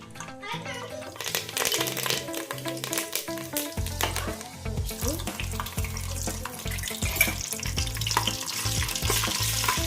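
Oil crackles and sizzles steadily as mustard seeds pop in a hot pan for paneer pulao tempering, with clattering utensils and music playing throughout.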